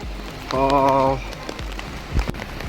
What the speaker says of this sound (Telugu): చాలా పెద్ద వర్షం పడుతుంది